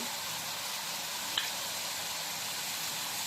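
Beef pieces browning in butter in a hot pan for beef salpicao, a quiet, steady hiss of sizzling with one faint clink partway through, no talking.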